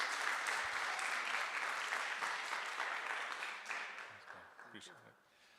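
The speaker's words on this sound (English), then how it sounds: "Another round of applause," A room of attendees at a Stanford Seed mixer gives a round of applause, dense clapping that slowly thins and fades, with a few voices emerging as it dies away.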